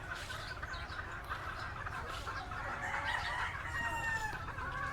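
Gamecock stags on a breeding farm crow and cluck over a steady background hum. Drawn-out crows rise near the end, while softer clucking carries on throughout at a moderate distance.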